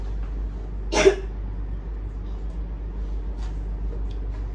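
A single short cough stands out once against quiet room tone, with faint low hum throughout.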